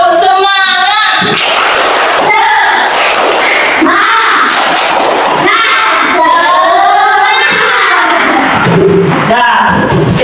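Schoolchildren standing in a classroom perform the tepuk semangat clapping chant, loud rhythmic group claps alternating with shouted chanting voices, close and energetic throughout.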